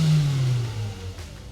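A 2016 Hyundai Avante AD 1.6 GDI Modern Special, 53,826 km, has its engine revved and then allowed to fall back, a short, fairly quiet burst that drops in pitch.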